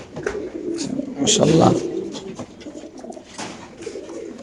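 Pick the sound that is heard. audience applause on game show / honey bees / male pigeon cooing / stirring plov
male pigeon cooing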